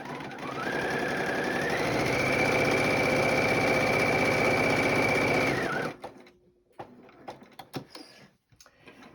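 A sewing machine stitches quilt pieces in one steady run of several seconds, then stops, leaving a few quiet clicks and handling sounds.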